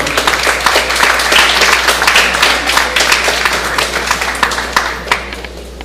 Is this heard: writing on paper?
no